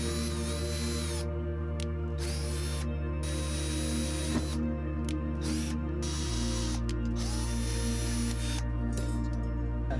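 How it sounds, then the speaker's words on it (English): A power drill bores out a rivet head on the grill of a 1970s-era Alfa Romeo 1300TI, giving a steady, sustained motor whine with pitch shifts partway through, close and loud with no talk. "You want to drill the head out."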